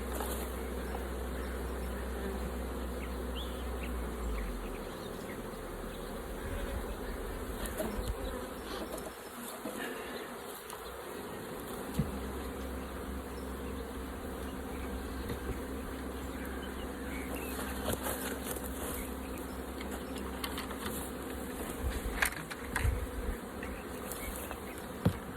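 Honeybees buzz steadily around an open beehive during an inspection, a continuous close droning hum that holds throughout with slight swells as insects pass near.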